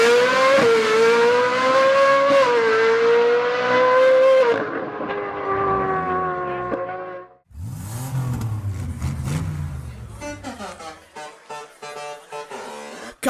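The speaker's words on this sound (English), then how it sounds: "With an aftermarket exhaust, it sounds even more insane." A high-revving Porsche 911 GT3 with an aftermarket exhaust screams loudly, rising in pitch through gears, then drops off into crackling, popping bursts and lower rumbling revs.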